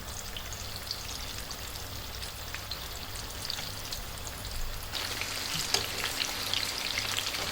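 Boneless chicken tikka pieces fry in a pan with a soft, continuous sizzle and occasional crackling pops, heard close but quiet with no talking.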